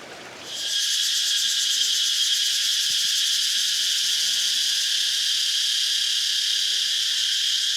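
Cicadas shrill loudly and continuously in Phu Quoc, Vietnam, a dense high buzzing chorus that swells in after a brief quieter start and then holds steady.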